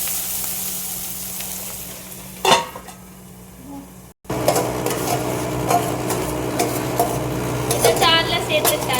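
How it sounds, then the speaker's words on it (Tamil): Ingredients for soya gravy are sautéed in a pan, giving a steady sizzle with a metal spoon scraping and clinking against the pan, a sharp clank midway, and continuous frying noise close by. "இப்போ இதை நல்லா வதக்கிக்கணும்."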